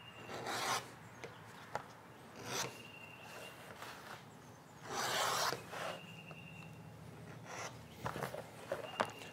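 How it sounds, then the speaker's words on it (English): Leather clutch bag edge being cleaned up by hand, quiet raspy filing and rubbing strokes in short bursts with pauses between them, close and faint, no talking. "I'm just doing a quick and dirty edge cleanup, nothing special."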